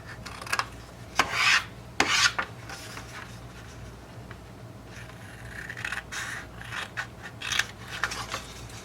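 Scissors snip small rectangles from creased, folded paper for a handmade envelope: irregular close snips and papery rasps, louder bursts early and then a run of lighter cuts and rustling, with no talking.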